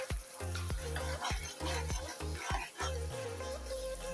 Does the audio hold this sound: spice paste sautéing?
yes